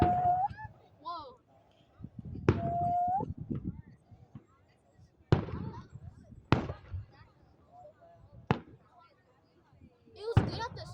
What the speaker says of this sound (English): There's a Pokemon shape firework.